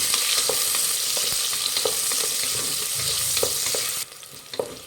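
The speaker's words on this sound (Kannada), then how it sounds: "2 ಈರುಳ್ಳಿ ಹಾಕ್ಕೊತಾ ಇದ್ದೀನಿ ಫ್ರೆಂಡ್ಸ್. ಈರುಳ್ಳಿ ಫ್ರೈ ಮಾಡಿ" Two lengthwise-sliced onions frying in oil for a peas rice bath, a loud close sizzle with a few light spatula scrapes that drops suddenly quieter near the end, with no one talking.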